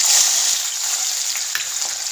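Finely chopped onion hitting hot oil in a kadhai, a loud burst of sizzling at the start that settles into a steady frying hiss with occasional stirring scrapes.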